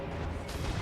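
Gunfire from the action video game Bloodborne, fought in the Pthumeru Labyrinth: a dull, booming shot over a dense low rumble of game sound, brief and fairly quiet, with no clear separate impacts.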